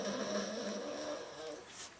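A dog makes low grumbling, snore-like whimpering sounds close by in a quiet indoor room, a soft continuous rumble lasting about two seconds with no talking.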